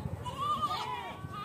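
Goats on a farm bleating, a single wavering nasal bleat rising and falling mid-clip over faint background noise, fairly close but not loud.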